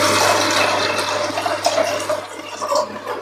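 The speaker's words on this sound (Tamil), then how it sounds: "இப்போ இதுல வந்து தண்ணி ஊத்திக்கலாம்" Steady rush of water pouring into a metal pressure cooker holding washed lentils, splashing and gurgling, then turning more uneven and bubbly as it fills.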